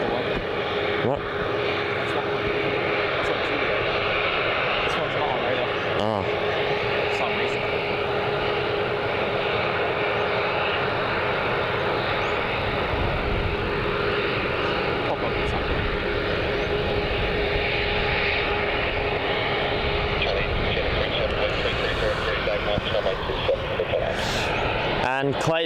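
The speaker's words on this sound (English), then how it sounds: "And we've got the Virgin 737 here. This is going to depart to Sydney as Virgin Flight 819." A Virgin Boeing 737 jet airliner departing Melbourne Airport, a loud steady engine roar heard from outside the airport and sustained throughout, with someone talking over it.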